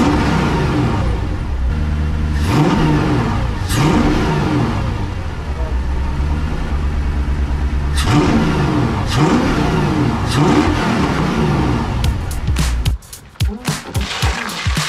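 A car engine, newly fitted with a muffler in a winter garage, revs repeatedly in rising and falling sweeps with a mid-pitched drone. It is loud and close, and sharp knocks and clatter come near the end.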